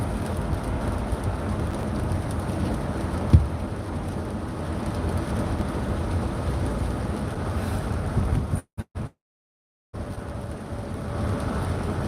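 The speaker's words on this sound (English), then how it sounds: "A lot of rain." Heavy rain and gusting wind roar steadily through a storm in Fort Lauderdale, a dense broadband wash close to the microphone that drops out briefly near the end before resuming.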